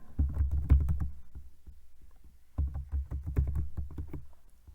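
Quick, close clicking of a computer keyboard being typed on, coming in two rapid bursts separated by a short lull.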